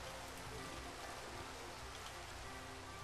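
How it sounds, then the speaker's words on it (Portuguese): Steady rain falling in a Minecraft survival world, a constant soft hiss of drops without a break, faint and even throughout. "Essa chuva ninguém merece."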